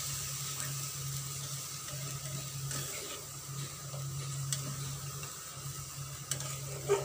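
Poppy seed and melon seed paste in oil sizzles and bubbles softly in a pan after a splash of water, a low, steady simmering hiss with faint clicks of stirring and no talking.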